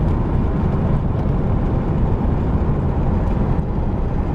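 A 1996 Mercedes SL600 drives along, its engine and road noise forming a steady, loud rumble from inside the car while the transmission shifts smoothly, with no clear break between gears.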